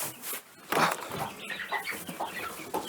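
A backyard chicken settling to roost clucks softly and close by in a few short, uneven bursts, with light rustling in between.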